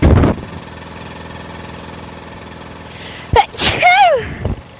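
One loud, abrupt sneeze bursts out over a steady engine hum, followed by a brief vocal sound.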